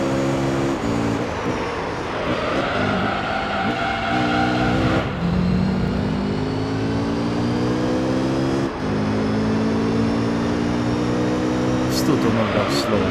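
Race car engine revving near its 11,000 RPM limit in Gran Turismo 3, a loud continuous whine with rising and falling harmonic sweeps through gear changes, steady and close throughout with background speech mixed in.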